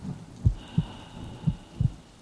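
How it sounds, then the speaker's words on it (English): A faint, muffled heartbeat thumps in slow, regular pairs against a soft hum, five dull beats in quick succession. "It was the beating of the old man's heart."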